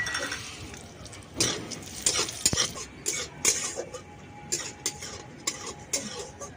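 Raw peanuts, broken in halves, frying in mustard oil in a pan, with a soft sizzle under repeated scraping and clinking of a spoon against the pan, irregular stirring strokes close up.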